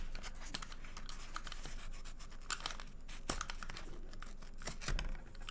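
A craft knife slicing through a cardboard paper roll, heard as a series of close, dry scratching and tearing strokes with a few sharper snaps, no voices.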